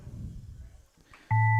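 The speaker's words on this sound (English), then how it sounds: "Here goes the buzzer." A race end buzzer sounds loud and steady and cuts in sharply after quieter rumbling.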